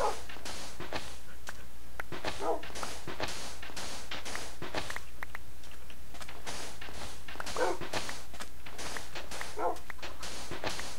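Dogs bark repeatedly in a video game, sharp yips and bow-wows coming in an irregular string of bursts over a steady low hum, with no talking.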